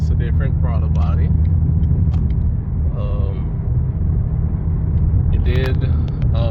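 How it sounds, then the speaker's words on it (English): The engine of a Cadillac CTS-V Sport fitted with a Soler performance throttle body rumbles low and steady from inside the car. A voice speaks over it now and then. "whenever I first started hitting the gas on it and I just let go of it, it still kept going"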